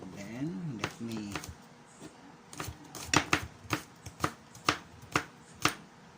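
A knife chops a peeled ingredient for fried rice on a board, with a run of sharp, evenly spaced cuts after a brief voice at the start.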